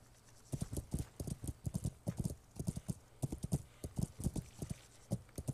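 A horse gallops in the medieval video game Kingdom Come: Deliverance, with loud, close hoofbeats in quick rhythmic clusters of clip-clops that run throughout, with no talk.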